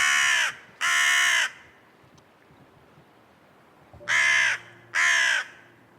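A crow calls near a little owl at a wildlife hide in Staffordshire, giving four loud harsh caws in two pairs separated by a quiet gap, close and clear over faint outdoor background.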